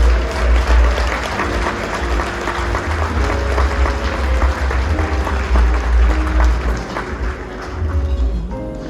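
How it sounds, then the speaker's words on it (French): Applause from a banquet audience at an anniversary celebration, a dense, steady wash of many hands clapping for nearly nine seconds, with a low hum and some crowd noise beneath. "de leur donner une bonne main d'applaudissements"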